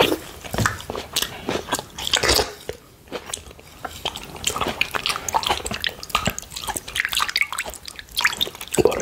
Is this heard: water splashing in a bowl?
yes